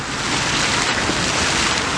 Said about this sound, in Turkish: Küçük bir dere var yan tarafta.